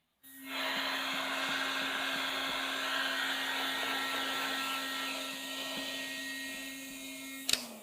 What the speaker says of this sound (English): I'm just going to start blow drying now and slowly squeegeeing.